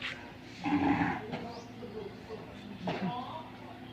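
A cow lows at a Thai temple, Nong Buak Som, two drawn-out moos at moderate distance with quiet background between them.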